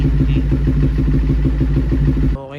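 A Kymco NK400 motorcycle engine runs close up at a steady, loud, rhythmic idle for over two seconds, then is switched off abruptly, leaving near silence with brief speech.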